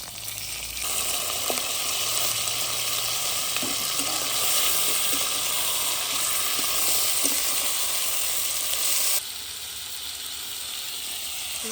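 Meat goes into a pan of reddened fried onions for a spicy red khichuri with wild chillies, sizzling loudly and steadily with a few stirring knocks before the frying hiss drops slightly near the end.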